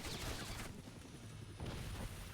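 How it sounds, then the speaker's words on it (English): A loud blast in the action game X-Men Origins: Wolverine at Alkali Lake, a broad roaring burst that fades briefly and then swells again amid artillery rumble. "Explosion got me"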